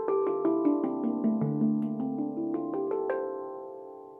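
Handpan struck with the fingertips instead of the pads, giving short, muffled ringing notes in a quick, even run that fades out at the end, played solo with no talking.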